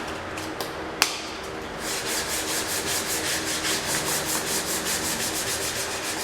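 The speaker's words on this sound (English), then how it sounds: "spend a couple minutes, sanding this guy out" Sandpaper rubs rhythmically back and forth across wood, a steady scratchy stroke repeated many times, preceded by a sharp knock and some handling.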